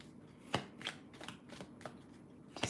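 Tarot cards are shuffled by hand for a reading, producing a few crisp riffling bursts with short pauses between them, close and fairly quiet, with no talking.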